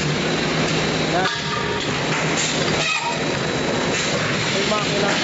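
A steel tube making machine runs inside a factory in Saudi Arabia, a loud continuous industrial roar with brief dips and clanks, and someone talks over it.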